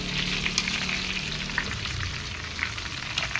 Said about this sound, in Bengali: এইভাবে সব সবজি ভেজে নেবো।